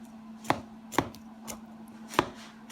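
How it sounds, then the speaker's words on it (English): A knife cuts into a venison front shoulder roast on a board, with five sharp, close taps at a steady pace over a low continuous hum. "I'm going to take my knife. I'm going to make cuts."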